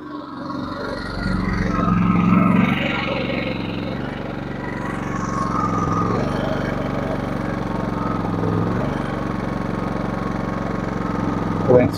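A Genmax GM7250IEDC inverter generator running a 5-ton air conditioner gives off a steady, mid-pitched engine drone that holds close and continuous, with a slight load change partway through.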